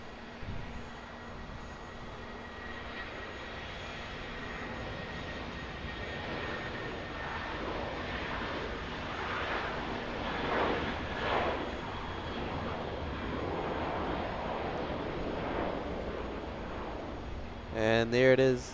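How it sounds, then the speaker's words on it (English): A Qatar Airways Airbus A350-1000 takes off from Auckland Airport, a distant, faint jet roar that swells steadily to a broad peak midway and then holds. A voice cuts in briefly at the very end. "And there it is, the Qatar Airways Airbus A350-1000 off to Doha."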